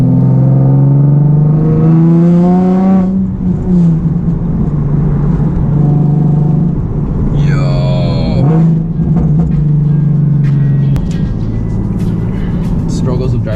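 A Nissan 370z with straight-piped exhaust roars and drops pitch in stepped revs as it downshifts, loud and close from inside the car, with people talking excitedly over the engine.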